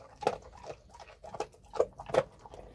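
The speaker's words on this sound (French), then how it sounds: "c'est l'heure de donner à manger au gros toutou" Close, wet chomping and lapping as a dog eats, in irregular bursts of crunching and slurping.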